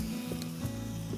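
Onions and tomatoes sizzle in a hot frying pan, a steady close crackle with a brief stirring or tossing bump partway through, no voices.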